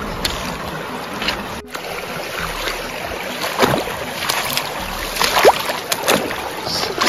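A large, clear river near a village in Bandipur, Tanahun rushes with a constant broadband roar of flowing water, loud and close, with a few splashy bursts.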